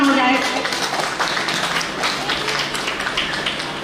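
Audience applause at a spiritual NGO gathering, a dense continuous patter of clapping from a crowd, fairly loud and steady throughout, gradually easing slightly toward the end.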